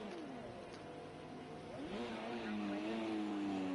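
An LMP2 race car engine in Project Cars 2 at Zhuhai revs and climbs through gears, the whine rising in pitch and growing louder toward the end.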